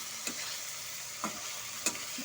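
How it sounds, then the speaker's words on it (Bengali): Fried eggplant tossed with spices over low to medium heat, giving a soft continuous sizzle with three or four light scraping strokes of the spoon, quiet and close, with no talking. "ভেজে রাখা বেগুনগুলোর সাথে সব মশলার সাথে ভালো মতো করে মিশিয়ে নেব"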